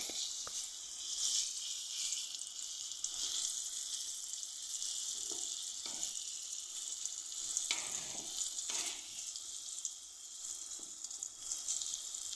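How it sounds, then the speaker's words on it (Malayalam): Jackfruit pieces fry in hot oil with a continuous bright sizzle that lasts throughout, broken by occasional pops and soft stirring knocks, close and steady with no voices. "അങ്ങനെ ഇതുപോലെ എല്ലാം ഇട്ട് കൊടുത്ത് ഇത് ഫ്രൈ ആകുന്നവരെ നമുക്ക് കാത്തിരിക്കാം."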